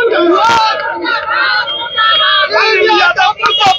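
A crowd chants protest slogans together as an effigy is set alight, loud and close, with voices shouting in repeated rising cries and overlapping yells.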